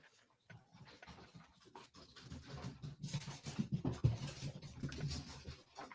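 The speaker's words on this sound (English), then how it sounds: "2 dogs." Two pet dogs pant and move about the house, steady close breathing rhythm with scrabbling and pattering movement building through the middle, no talk over it.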